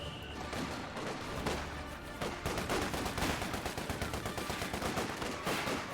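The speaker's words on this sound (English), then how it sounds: "Yes, a barrage is being used." Heavy artillery barrage in the Company of Heroes 2 battlefield, a dense, continuous stream of booming explosions and gunfire crackle, loud and sustained throughout with rapid overlapping impacts.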